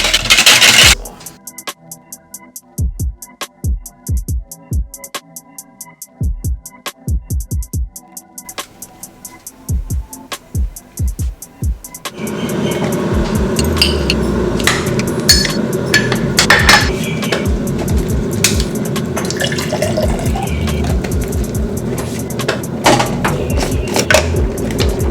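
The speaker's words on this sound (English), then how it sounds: "I think I'm gonna use a whisk" A mixture beaten with a metal whisk in a bowl, producing a run of sharp rhythmic clinks followed by a denser, continuous scraping and rattling, close up.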